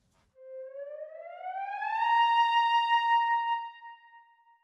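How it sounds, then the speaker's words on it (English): A sampled clarinet from the Infinite Woodwinds library plays a smooth upward glide that swells in loudness, then holds a steady, bright sustained note before fading out, heard alone and clearly. "Now, clarinets can also play glides."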